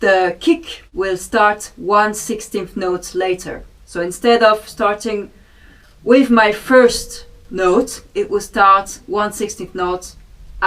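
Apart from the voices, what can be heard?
No everyday noise stands out behind the speech.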